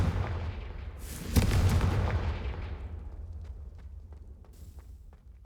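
Confringo fire spell blasts in Hogwarts Legacy, a loud booming explosion that rolls out and fades over a few seconds, followed by faint light clicks and steps.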